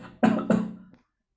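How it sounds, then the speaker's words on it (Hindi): Two quick harsh coughs close to the listener, followed by a faint trailing sound, then silence. "खांसी हो गई है"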